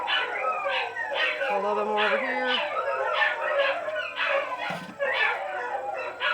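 Several dogs howl, yip and bark continuously in the background of a home craft session, their drawn-out howls and whimpers running under a person's steady talking.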